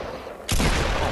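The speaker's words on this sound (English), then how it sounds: "Trying to shoot the guy." Loud burst of gunfire in the Fortnite video game, a sudden dense volley that erupts after a quiet moment and keeps rattling at close range without letup.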